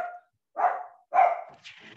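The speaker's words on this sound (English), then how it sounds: "I'm sorry, that's my dog." A dog barks twice in quick succession, close and fairly loud, with a brief higher yelp trailing after; no talking.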